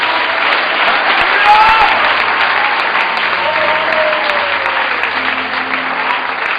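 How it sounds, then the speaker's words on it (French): A large crowd at a French-language church gathering applauds loudly and steadily, dense clapping that fills the space for several seconds. "Je voudrais qu'on acclame le Seigneur."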